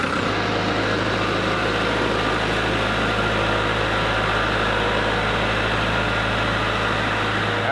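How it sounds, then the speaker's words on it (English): A Toyota Tundra pickup idles in a driveway during a cold Alaskan winter, with a loud, steady low engine drone and a constant hum that holds evenly for several seconds, with no talking. "Let's go fire up the Tundra and check out the headlights."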